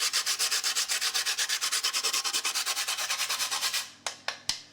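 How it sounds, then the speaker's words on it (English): Whole nutmeg is grated by hand over a layered potato gratin, giving a fast, even run of rasping scrapes close up, followed by a few slower separate strokes at the end. "some grated nutmeg. Now I like to grate mine over it"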